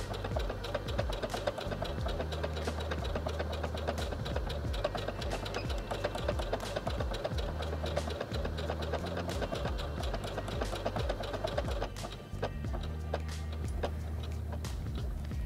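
A Singer HD6805C sewing machine stitches a tulip design in satin stitch, a fast rhythmic mechanical chatter running steadily and close by, with a short break near the end before it resumes.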